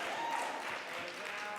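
Scattered applause from people in a city council chamber during an oversight hearing, soft and somewhat distant, a steady patter lasting briefly.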